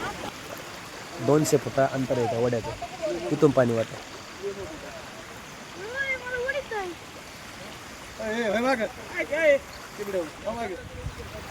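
Floodwater after heavy rain pours through a flooded village, a steady rushing flow under people talking and calling out.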